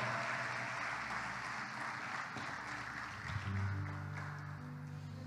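Congregation clapping during a Portuguese-language church service, a moderate wash of applause with a low sustained organ-like tone entering partway through and continuing beneath it.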